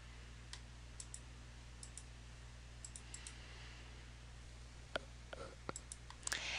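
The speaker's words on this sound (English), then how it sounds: "Click the file to be imported and click Open." Computer mouse clicks while selecting and opening a file, scattered sharp single and double clicks at irregular intervals over a low steady hum, busier toward the end.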